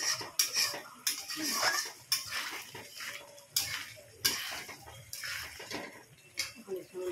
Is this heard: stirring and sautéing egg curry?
yes